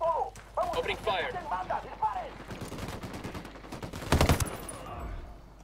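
Gunfire in Ghost Recon Wildlands during a firefight with a thug, heard as a dense burst of shots near the end, partly buried under someone talking over game noise.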